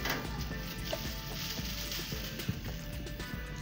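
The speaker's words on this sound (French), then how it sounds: "je continue de mélanger, voilà, bien mélanger" Salt being stirred into seven litres of water in a container makes a continuous close-up swishing and churning with small scraping knocks, steady and moderately loud for a few seconds, with no voices.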